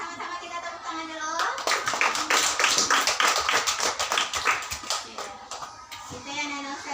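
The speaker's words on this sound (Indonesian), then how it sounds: "Mari sama-sama kita tepuk tangan dulu." A group of children claps hands together in a brisk burst of several seconds, with voices heard before and after the applause.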